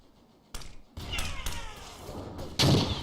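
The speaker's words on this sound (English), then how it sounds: "so I got the artillery shot off, but I got grenaded" World War I artillery and explosions thud in Verdun, several sharp booms in quick succession with a louder, harsher blast at the end.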